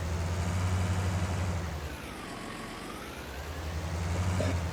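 Farm tractor engine idling and working while backing a disc harrow into a shed, a steady low rumble that eases in the middle and swells again, with a faint rising and falling whine over it.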